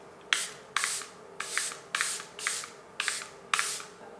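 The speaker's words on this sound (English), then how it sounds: "Airbrush Flawless Setting Spray" Airbrush Flawless setting spray misted from a pump bottle, seven quick close hisses in a steady rhythm with short pauses between them.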